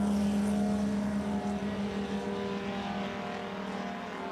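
A Yamaha-engined race plane roars past at national championship air races in Roswell, New Mexico, a steady loud engine drone with a strong low hum that slowly fades as it moves away, echoing across the open field.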